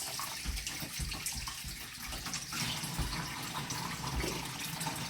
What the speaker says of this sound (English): And then I'm going to rinse.